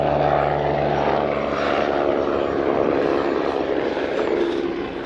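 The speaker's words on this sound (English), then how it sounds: "There's a chopper." A helicopter flies over the coast at St Andrews in Fife, its rotor and engine throbbing in a steady, fairly loud drone throughout, with no voices.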